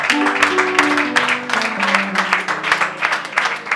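Congregation at a church seminar in Kinshasa clapping to acclaim the Lord, with loud, continuous rhythmic applause over sustained keyboard tones and voices throughout.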